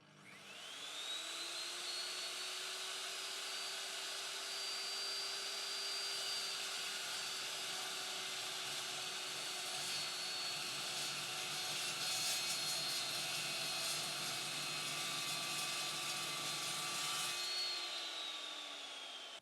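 An Evolution S355MCS metal chop saw cuts through a 24 mm thick steel bar, a steady loud whine with a bright harmonic ring and a shifting tone that runs for nearly twenty seconds before the blade spins down.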